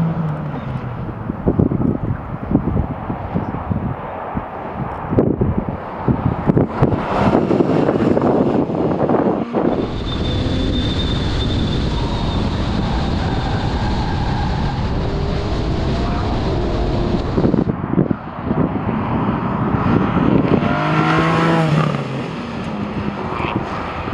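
A Porsche Cayman GT4 accelerates hard on the road, its engine climbing through gears with a strong rising roar and brief breaks at the shifts, heard from inside the car with wind noise and occasional voices.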